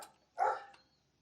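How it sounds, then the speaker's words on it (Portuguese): A dog gives one short, fairly close bark, with a faint yip just before and a tiny click after, in a quiet room with no talking. "meu cachorro tá latindo agora"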